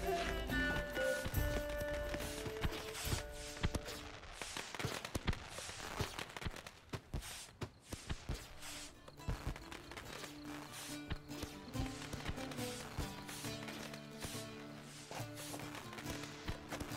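Horse hooves clip-clop steadily in The Witcher 3, a continuous trotting rhythm laid under a dense bed of game music and ambience, with no speech.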